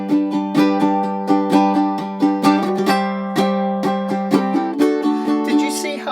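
Ukulele strummed in a steady rhythm, each chord preceded by a quick shaking flick of the strumming hand, bright repeated chord attacks ringing out close and alone with no talking.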